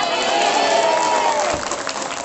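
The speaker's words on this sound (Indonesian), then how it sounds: "Tepuk tangan." Crowd noise with cheering and clapping at a Sundanese religious lecture, a loud dense wash of voices and applause running throughout and easing slightly toward the end.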